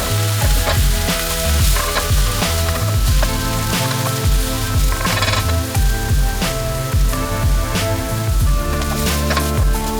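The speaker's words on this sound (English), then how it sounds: "We're gonna stir fry for about 2 minutes." Olive pasta ingredients stir-frying in a hot pan, a loud continuous sizzle with scraping and tossing strokes recurring throughout, close and steady with no voices.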